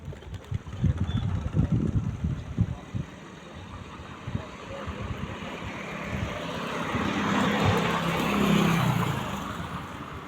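A bus engine drones along a village road near a river, rumbling low and irregular at first, then growing steadier and louder as it approaches toward the end.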